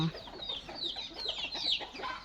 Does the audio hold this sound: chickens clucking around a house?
yes